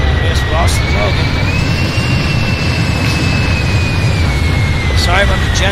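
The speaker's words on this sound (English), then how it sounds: "Sorry about the jet sound." A continuous jet engine whine and roar from a flight simulator game, loud and steady throughout with a sustained high-pitched tone over a broad rumble, with a few faint clicks.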